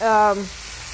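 Green beans sizzle in a hot pan, a brief tonal hum at the start giving way to a soft, steady hiss.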